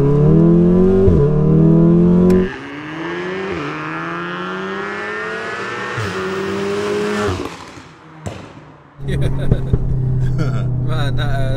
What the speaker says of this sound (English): That's the induction, isn't it, making that sound? Yeah, it's got a bit of a hiss, isn't it?